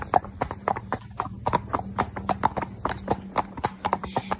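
Horse hooves clip-clop on a road during an out-and-about hack with several horses, a steady rhythmic beat of close, distinct footfalls with faint talk in the background.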